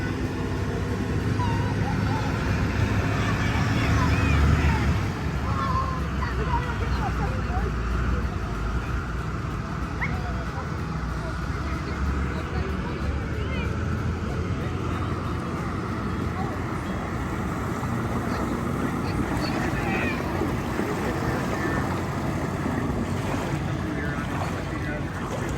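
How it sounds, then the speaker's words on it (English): A deck boat's engine drones steadily as it motors through shallow water on the Wisconsin River, water rushing and wind buffeting the microphone, with a continuous loud wash of noise throughout. "The deck boat here going through the really shallow part."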